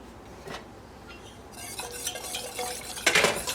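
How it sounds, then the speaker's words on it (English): A spoon stirs thickening honey in a pot while making homemade cough drops, giving soft scraping strokes that grow livelier, with a few sharp clinks against the metal near the end. "You can see that when I'm moving it around, the honey comes together."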